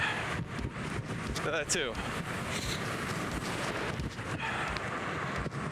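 Heavy, constant wind buffeting a microphone while a RadRunner Plus e-bike rides at full throttle, a loud low roar that barely varies, with someone speaking briefly underneath.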